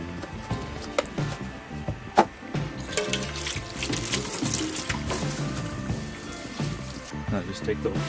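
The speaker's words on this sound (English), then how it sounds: "we get a little bit of water and we're going to pour it in there" Water poured into the bowl of a kettle barbecue grill before scrubbing, a trickling, splashing flow with sink-like running water that continues steadily through the clip, with faint speech underneath.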